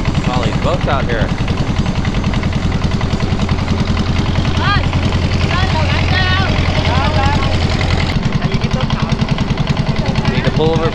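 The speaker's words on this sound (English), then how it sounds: "All these boats out here." Boat engines on the Mekong river in the Vietnamese countryside drone loudly and continuously, a steady low motor roar with voices talking over it and a brief clunk near the end.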